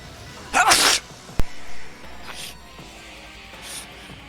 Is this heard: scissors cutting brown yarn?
no